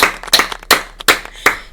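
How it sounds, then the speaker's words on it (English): Scattered claps from a small group at a comedy roast, coming in about five separate loud bursts with short gaps between them rather than a continuous roll of applause. "Big ol' round of applause for Josh."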